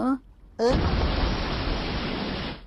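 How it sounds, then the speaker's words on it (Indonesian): An explosion in a Doraemon animated movie, a sudden loud blast that turns into a sustained roaring rumble lasting a couple of seconds, following brief cartoon voices. "Ada ledakan."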